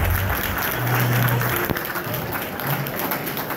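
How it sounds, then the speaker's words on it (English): Round of applause for school committee members called to the front at a community event: sustained crowd clapping, fairly loud and dense, with faint voices mixed underneath. "Yeah, they deserve a round of applause."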